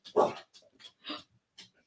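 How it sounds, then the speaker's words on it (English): A dog gives a few short, quiet barks and yips in a quick irregular burst, close by, with nothing else around it. "There's going to be a bark."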